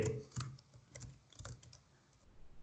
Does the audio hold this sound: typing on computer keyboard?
yes